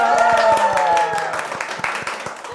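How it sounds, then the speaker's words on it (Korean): Parents in an elementary-school information session clap together, a burst of hand claps with tonal sound and voices over it at first, thinning into scattered claps. "그럼 박수 한번 쳐주세요"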